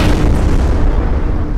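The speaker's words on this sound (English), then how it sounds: "That's a grenade." A grenade explodes in the video game Content Warning, producing a loud, dense, booming blast that fills the short moment with rumbling noise.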